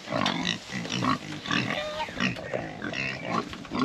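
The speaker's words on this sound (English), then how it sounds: "And my pigs. I'm going to feed them." Pigs grunt and snort repeatedly, several animals overlapping in a busy, continuous chorus close by.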